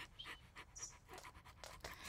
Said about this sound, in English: You're such a good dog, Lucas